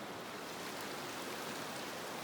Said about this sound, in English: Still hiking along the river.